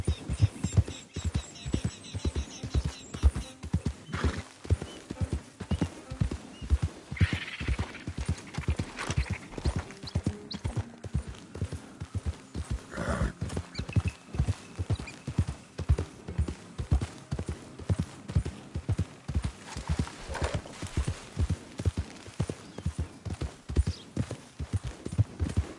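A horse in the Red Dead Redemption 2 video game moves at a steady, driving hoofbeat rhythm for a long stretch. A couple of brief neighs or whinnies rise above the close, loud clip-clop.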